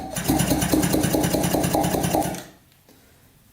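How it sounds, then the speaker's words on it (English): A 2-stroke Yamaha motorcycle engine cranking over via a jumped starter solenoid, with a loud, fast, steady mechanical churning for about two and a half seconds, then cutting off abruptly to near silence. "If we jump the solenoid, it actually starts the bike, or not starts it, but turns it over."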